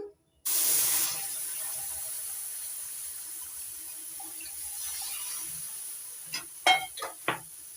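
Milk poured into semolina roasting with crushed cashews in a pan gives a sudden loud hiss that settles into a steady sizzle, followed by a few short scraping stirs near the end.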